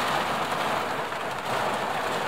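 Rain falls outside a parked car at night, a steady, fairly loud hiss of drops drumming on the roof and windows with no voices.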